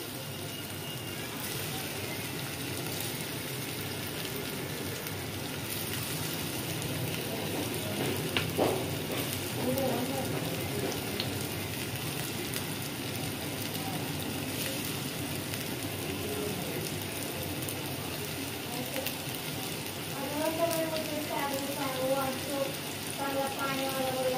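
Paneer slices fry in oil in a pan over a low flame, giving a steady, soft sizzle that runs unbroken throughout, with brief faint voice-like sounds rising above it now and then.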